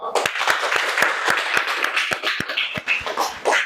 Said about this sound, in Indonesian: Terima kasih, kita beri aplaus untuk kelompok 2.